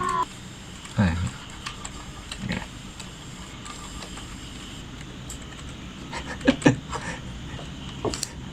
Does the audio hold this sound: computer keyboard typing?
yes